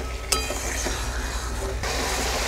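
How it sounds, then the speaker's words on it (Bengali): Jeera chicken is stirred and cooked down in a pan, giving a steady close sizzle with scraping stirs and a sharp clink of the spatula against the metal, with no voices. "সব কিছু খুব ভালো করে কষিয়ে নেব"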